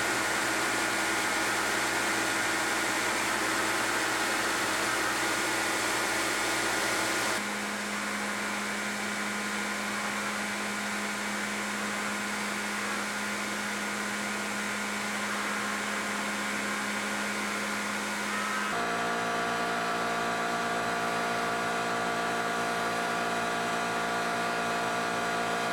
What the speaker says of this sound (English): I'll use my bandsaw and my belt grinder